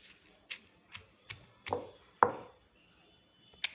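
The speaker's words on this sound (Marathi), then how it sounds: "मी हे खलबत्यात वाटण करत आहे" Pestle pounding coriander and whole spices in a mortar for an egg rice dish, making about seven dull, close thuds at a steady then slowing pace, each followed by a short gritty ring-out, with no voices.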